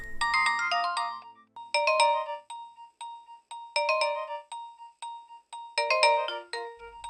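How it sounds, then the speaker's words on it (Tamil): A phone ringtone plays in repeated melodic bursts, each lasting about a second with short gaps between them. It is loud and clear throughout, with no voices over it. "போன் அடிக்குது"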